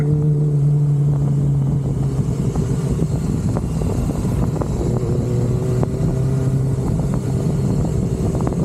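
A second-generation Yamaha YZF R6 sport motorcycle engine while riding, a loud, steady, close-up drone whose pitch shifts slightly as revs change, running continuously without pause.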